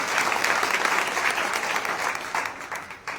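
A large audience in a hall at a Pan Samman Diwas preparation event in Saharsa applauds steadily, a dense crowd clapping that holds for the whole stretch and thins slightly at the end.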